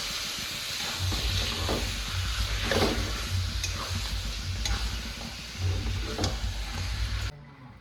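Tomato frying with salt and turmeric, stirred steadily in a pan with dried chilli, onion, garlic and ginger, giving a continuous close sizzle with repeated scraping strokes and no talking.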